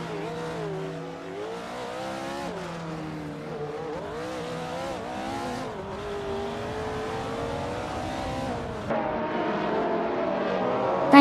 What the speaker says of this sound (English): SR8, a lightweight, high-performance race car known for its speed and agility